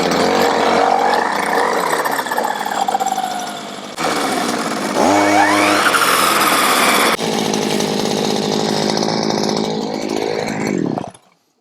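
A Vevor 52cc gas hedge trimmer engine runs loud and close, a buzzing two-stroke drone that revs up and changes pitch midway, then keeps idling before cutting off abruptly at the end.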